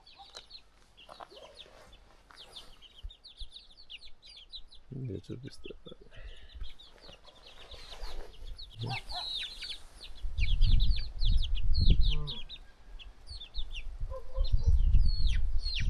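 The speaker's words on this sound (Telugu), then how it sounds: "నాటుకోళ్ళు, ఈ కోడి పెట్ట, కోడి పిల్లలు." Native village hens cluck and chicks cheep in quick, scattered calls nearby in a Kazakhstan village, while people talk and low rumbling noise builds toward the end.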